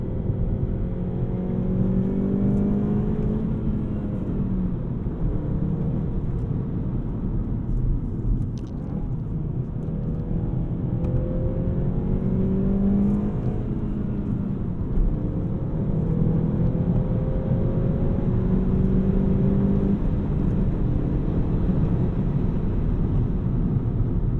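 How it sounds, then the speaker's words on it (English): A 2020 VW Golf GTI hot hatch drives hard, its engine droning loudly and continuously as the pitch rises and falls through repeated accelerations, with road and wind noise underneath. "It is a very fast car."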